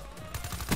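Gunfire from the Shiva weapon in a video game: a quick run of sharp, close digital shots over a steady in-game background hum, without talk.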